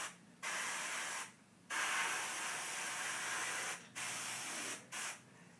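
An airbrush sprays paint onto a brick wall in four separate bursts of steady, close hiss, with short quiet gaps between them and no voices.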